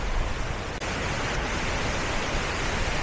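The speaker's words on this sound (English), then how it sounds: "There's a waterfall off the end, nice emerald green, and then there's like some rapids" Steady broadband rush of a waterfall and river rapids on a mountain hike in Spain, emerald green water, heard as a continuous close roar without breaks or voices.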